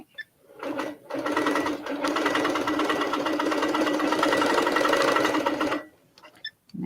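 A large quilting-style sewing machine using an M-class bobbin stitches steadily for about five seconds, a loud continuous mechanical whirr that starts and stops cleanly with brief quiet before and after.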